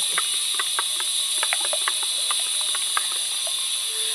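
An omelette fries in a little mustard oil in a hot kadai, giving a steady loud hiss with scattered crackling pops and spits throughout, no voices over it.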